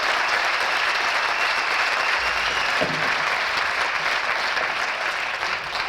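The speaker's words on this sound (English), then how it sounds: "Let's have a big round of applause for him" Audience giving a big round of applause to a performer arriving with a mime interpreter, dense continuous clapping filling the whole stretch at steady loudness.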